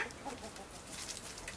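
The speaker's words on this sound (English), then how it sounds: "Then you got the two bigger white chickens." A small flock of backyard chickens, including two larger white hens, clucks in soft, irregular bursts close by, with no talking over them.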